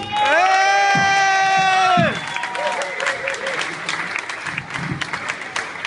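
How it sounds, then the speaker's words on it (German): An open mic show audience breaks into loud applause and cheering after a long sustained whoop from the crowd, then dense clapping continues steadily near and full for several seconds. "Bitte Applaus, ein riesigen Applaus"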